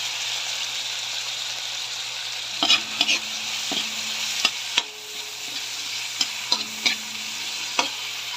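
Ginger, garlic, onion and tomato sautéing in a pan: steady close sizzling and frying hiss, with a scattering of sharp clicks and scrapes as a utensil stirs against the pan.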